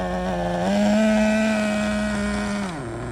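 A Traxxas Nitro Slash RC car's small nitro engine drones steadily during break-in, its buzzing pitch rising briefly and then dropping off near the end, loud and close with no talking.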